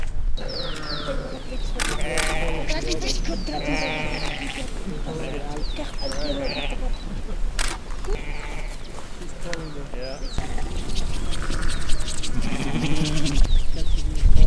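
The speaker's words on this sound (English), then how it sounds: "And there's like a billion sheep." A flock of sheep bleats in an Andean village in Peru's Sacred Valley, with many overlapping wavering cries near and farther off, while people talk over the flock.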